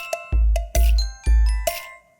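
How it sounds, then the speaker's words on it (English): Several bells in a crowded percussion setup with cowbell, drum and shakers ring out in repeated bright strikes, each with a low thump beneath and a shimmering decay, close and loud. "and bells."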